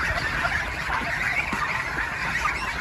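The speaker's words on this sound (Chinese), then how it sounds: "喂鹅了，喂鹅了。" Young geese about forty days old honking on a farm at feeding time, a dense, continuous chorus of nasal calls from a flock close by, steady throughout with no talk.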